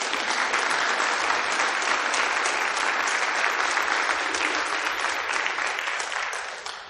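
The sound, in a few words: audience applause at policy forum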